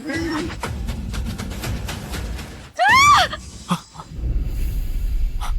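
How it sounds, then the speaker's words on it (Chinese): A woman lets out a sharp, rising scream in the middle of a stretch of breathy groans and gasps, loud and close, followed by a few short strained breaths. "谁在惨叫？"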